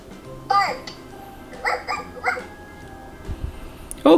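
A toy puppy gives a few short electronic barks and yips, spaced out and fairly close, with a voice and other talk around them in a quiet room.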